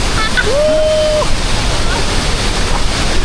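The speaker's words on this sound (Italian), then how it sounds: "La portata d'acqua ragazzi è incredibile, ce n'è una mare, è assurdo quello che abbiamo davanti" Roaring water of Iguazu Falls on the Brazil–Argentina border, a loud, dense, steady broadband rush that fills the whole clip, with a brief high tone near the start.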